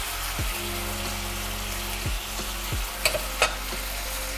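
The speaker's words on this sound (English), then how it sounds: "So I'm gonna go ahead and flip over our chicken in there as well." Chicken for adobo frying in a pan gives a steady, close sizzle throughout, with a few soft scrapes and clinks as the pieces are turned.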